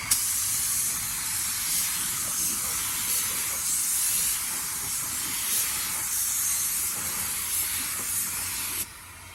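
A spray gun lays waterborne paint onto Magnum 500 wheels, a steady, close, loud hiss running continuously for about nine seconds and cutting off abruptly at the end.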